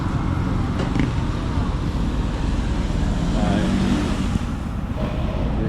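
Road traffic in Romblon town, where there are no road rules or pedestrian crossings, rumbles past steadily as a continuous wash of engine and tyre noise, fairly close and even in level, with no clear talk on top.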